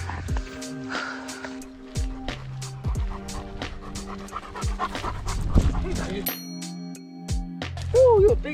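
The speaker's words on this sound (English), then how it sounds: "So we got a big old husky following us." A big husky following hikers on a trail, panting in quick rhythmic bursts close by, with occasional whimpers amid footsteps and a few brief voices.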